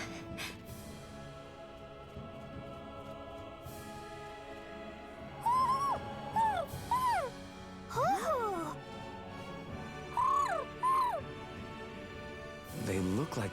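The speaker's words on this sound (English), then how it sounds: "He's probably happy to see another owl." Owls hooting in the video game Tales of Arise, several short rising-falling calls traded back and forth in bursts, moderately loud over a quiet game background.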